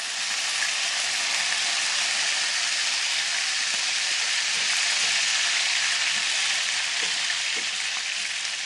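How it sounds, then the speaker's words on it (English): Six chicken wings frying in hot oil for buffalo wings, a loud, even, continuous sizzle with faint crackles and pops underneath and no voices. "6 wings in the oil and going."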